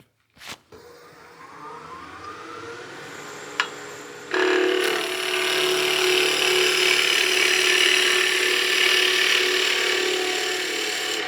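A skew chisel makes planing cuts on a spinning workpiece on a wood lathe. A couple of knocks come first, then a loud, steady hissing cut runs unbroken to the end, with no voices.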